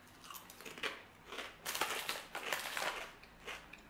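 GOT7 Nutrition protein chips, thin and crunchy, are bitten and chewed close up, with a series of sharp, crisp crunches in an irregular rhythm and no talking.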